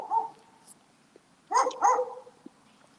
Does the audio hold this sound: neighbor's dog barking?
yes